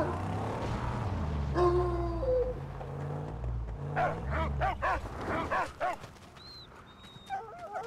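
A dog in the post-apocalyptic game Mad Max barks in a quick run of several sharp woofs amid engine rumble and game noise, fairly close and loud.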